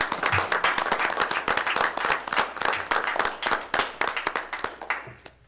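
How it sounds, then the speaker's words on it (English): A room full of people at a city council meeting in Clearlake give a lively round of applause, dense overlapping claps that hold steady and close before tapering off at the end. "I think they deserve a round of applause as well."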